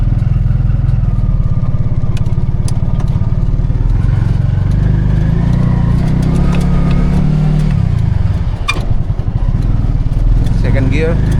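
A Piaggio Ape City auto-rickshaw engine runs loud and close throughout a test drive, a steady low mid-pitched drone that rises and shifts as the vehicle pulls away through the gears, with a voice talking over it.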